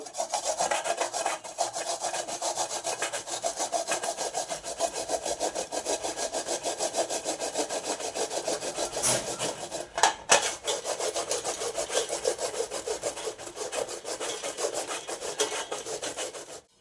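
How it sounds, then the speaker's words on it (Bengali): Taro root is grated by hand against a metal bowl with holes, making a continuous rhythmic rasping scrape, close and steady, with a brief pause partway through. "এই যে ফুটো ফুটো বাটি এইটা দিয়ে আমি ঘষে নেব কচুটা"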